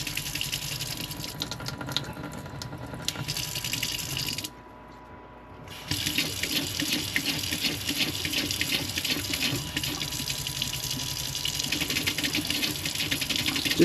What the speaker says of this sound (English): Just kind of splatters water everywhere.